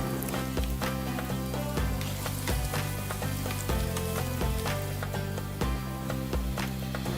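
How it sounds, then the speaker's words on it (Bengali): Three medium chopped onions frying in hot cooking oil in a pan, a steady dense sizzle throughout with repeated low thumps and clatter of stirring, close and fairly loud, no talking. "তেলটা গরম হয়ে গেলে পেঁয়াজ কুচি দিয়ে দিচ্ছি।"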